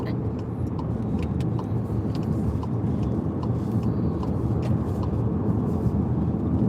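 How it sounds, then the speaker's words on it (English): Traffic rolling behind a moving car, a continuous low road rumble with passing vehicles and a voice talking over it. "A lot of cars there at my back."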